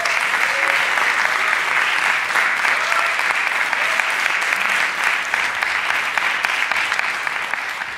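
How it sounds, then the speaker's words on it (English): Sustained, even applause from a concert audience, many hands clapping steadily for the whole stretch without a break. "Can we give Larry a round of applause"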